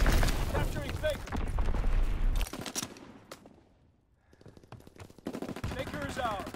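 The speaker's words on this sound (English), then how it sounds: "Enemy mortar fire incoming!" Battle sounds in the Call of Duty WW2 beta on the Aachen map: loud bursts of gunfire and booming mortar blasts, a brief lull, then dense firing again, with game voices calling out over the action.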